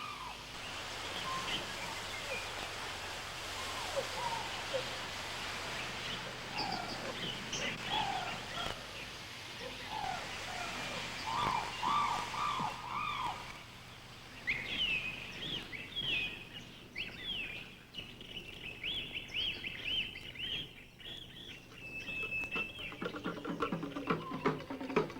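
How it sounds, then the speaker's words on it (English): Birds chirp and call repeatedly in a leafy rainforest walk with waterfalls at World Expo 88 in Brisbane, the calls moderately loud over a steady background wash, with a brief quieter patch midway. "Its cool, leafy atmosphere, echoing with birdsong, creates a welcome oasis for Expo visitors."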